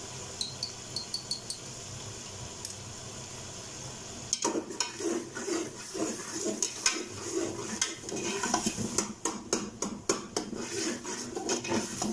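A spoon scrapes and clatters in a pan while chilli, turmeric and coriander are roasted for urad dal, starting with a soft sizzle and turning into rapid, repeated stirring strokes over steady frying noise.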